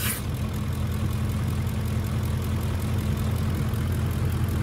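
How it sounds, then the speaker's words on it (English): Steady, even rumble of an idling Ford F-150 5.4L 3V Triton V8 engine, close and constant, with a faint rhythmic pulse and no voices, after a lean-running rough-idle fault repair. "Engine runs a million times better already"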